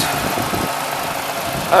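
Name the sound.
1993 Ford Ranger XLT Vulcan V6 engine idling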